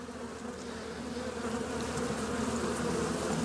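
Honey bees hum in a steady, close swarm around an autumn hive frame, a continuous droning buzz with no voices.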